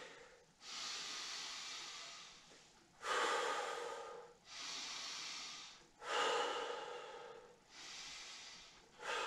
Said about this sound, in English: you might want to take a couple deep breaths